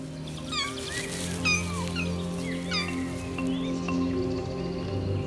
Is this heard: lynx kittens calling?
yes